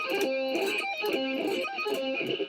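Sloppy guitar sweep picking played with the fingers: three repeated arpeggio runs with smeared, ringing notes, close and clear, with no talking.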